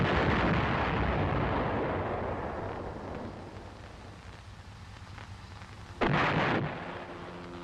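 A loud, heavy blast from the M551 Sheridan armored reconnaissance assault vehicle's main gun opens the sound, and its rumble decays over several seconds. A second sharp burst follows, briefly and close by, with no talk.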